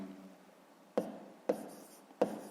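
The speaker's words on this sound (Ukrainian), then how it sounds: "Пишемо в дужках чого кілограм." Pen or pencil writing a math answer by hand on paper during a fifth-grade arithmetic exercise, heard as three sharp, close taps and strokes spaced about half a second apart over a quiet background.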